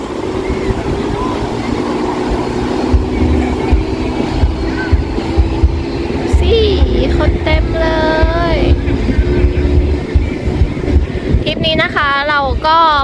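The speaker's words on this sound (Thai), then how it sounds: "บรรยากาศดีลมเย็นมากๆเลย" Steady wind buffets the microphone at a beach resort in the early evening, a broad low rumble running throughout, with voices and a few brief high tones coming through on top.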